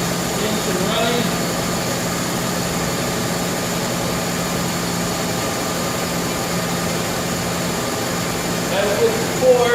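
A car engine idles under the open hood during routine under-hood checks, a steady low droning hum that holds even and unbroken, with a person talking briefly over it.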